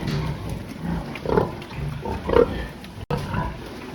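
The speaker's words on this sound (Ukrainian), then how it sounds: "Це наша вже четверта свинка." Sows grunt and snort at close range during vaccination on a pig farm, a few low irregular calls over steady background noise with a brief dropout.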